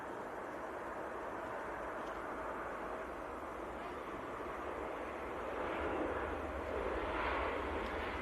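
A TUI airliner arriving from Toulouse at Manchester Airport in freezing weather, a steady distant engine roar that swells slightly toward the end, with no talking.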